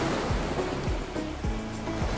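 Ocean waves wash steadily onto a beach during a camping trip, a continuous close surf roar with a soft repeated rhythm, with no voices.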